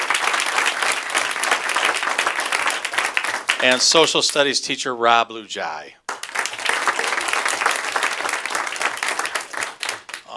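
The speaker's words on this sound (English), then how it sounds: "Nice round of applause for Mr." An audience at a school board meeting claps in a steady round of applause that dips briefly while a speaker announces a teacher's name over it, then swells again and continues.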